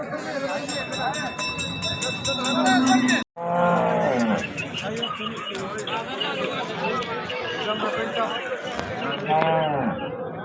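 Cows moo amid a busy crowd at a cattle market in Sangola, Maharashtra, with people chattering loudly throughout and several low lowing calls rising over the babble.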